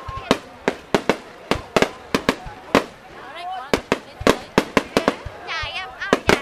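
Fireworks being set off, more than twenty sharp, loud bangs in an uneven rapid string, echoing off surroundings, with voices and whistling shells faintly between the blasts.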